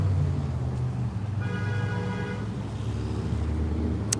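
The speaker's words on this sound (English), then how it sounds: "Honking their horns, not happy today." Street traffic with car horns honking, a steady roadway rumble of passing vehicles and a sustained horn tone in the middle, heard from the pavement.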